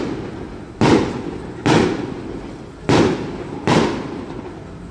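Fireworks in an outdoor display, heard as five loud booming bursts at roughly one-second intervals, each fading into a crackling tail, with no talk.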